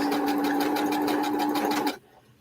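A sewing machine stitches across fabric in a steady, rapid rhythmic whir for about two seconds, then stops suddenly, leaving quiet.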